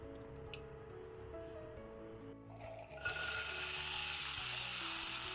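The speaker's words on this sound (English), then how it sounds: "We will grind this to a fine paste by adding little water." Mixer grinder whirring loudly as roasted turkey berries and spices are ground into a fine curry paste with a little water, the steady motor starting abruptly after quiet kitchen background noise.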